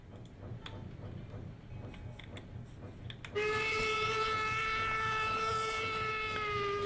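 A train in the Minecraft Traincraft mod rolls past with rhythmic clicking wheels, then a loud, sustained multi-tone whistle blows close by and holds to the end.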